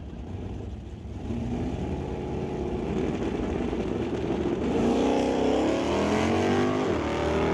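Drag race cars at an NHRA Northwest National Open Series event launch down the strip, engines rising from a quieter idle into a sustained loud roar that swells further midway as they charge away.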